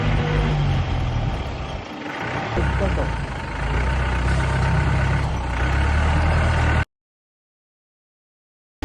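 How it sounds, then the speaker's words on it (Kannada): A jeep grinds along a rough road, its engine and body rumble steady and loud with bumpy surges before the sound abruptly cuts to silence near the end. "ಜೀಪ್ ರೈಡ್ ಮಾತ್ರ ಮಸ್ತ್ ಆಗಿತ್ತು. ಹಾಗೆ ಕ್ಲಿಪ್ಸ್ ಹಾಕ್ತೀನಿ ನೋಡಿ."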